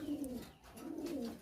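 A high-mutation pigeon coos in two rounded, throaty phrases, close and fairly soft, with a short pause between them and no talk.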